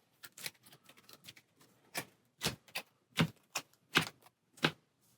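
Playing cards for the Warhammer Quest board game shuffled by hand at close range, a series of crisp riffling bursts and taps spread over several seconds with no talking.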